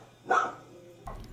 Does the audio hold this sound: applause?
no